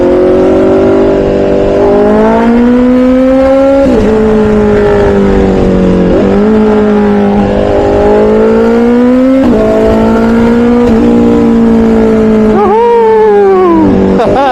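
A new motorcycle being ridden after its first upgrades, with a freshly adjusted clutch, its engine note droning steadily close to the microphone and rising and falling through repeated gear shifts and revs.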